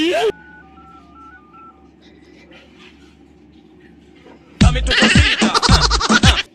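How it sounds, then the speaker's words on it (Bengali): A short series of telephone keypad tones beeps in quick succession, followed by a loud burst of voices talking close up. "আমি তাহলে এখন ছোট জামাইরে ফোনটা করি"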